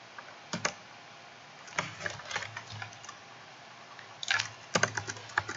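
Typing on a computer keyboard while coding a website, with quick bursts of light clicking keystrokes separated by short pauses, close and fairly quiet, with no talking.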